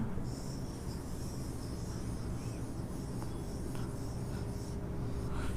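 Marker or chalk drawing a solenoid diagram on a board during an electromagnetism lesson: faint, scratchy strokes over a quiet, hissy room, without talk.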